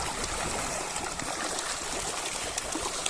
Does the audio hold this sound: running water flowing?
yes